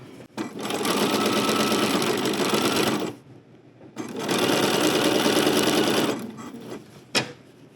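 Sewing machine stitching a 1-inch hem around the edge of a summery caftan, running in two long, steady, loud bursts of about three and two seconds, with a short pause between them and a brief click near the end.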